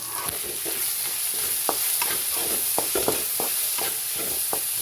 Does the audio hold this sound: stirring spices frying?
yes